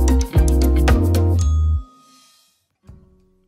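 A bright synthesized bell chime rings out in a quick series of clear tonal strikes, then fades into near silence before a brief faint tone near the end.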